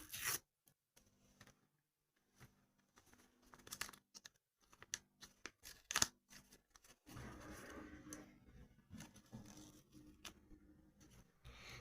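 A paper sticker packet being torn open and unwrapped by hand, with sparse quiet crinkles and rips at first, then a denser continuous rustle of paper close by, all faint and without talk.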